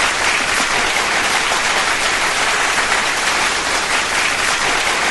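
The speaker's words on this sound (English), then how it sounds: "Just a brief pause while the applause dies down, Stacey." Sustained audience applause on a talk radio broadcast, a dense, steady wash of many clapping hands at even loudness throughout, with no voices over it.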